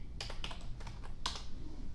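A few light keystrokes tapped on a computer keyboard while searching for holiday ideas, scattered and uneven, faint and close with a low room hum underneath and no talking.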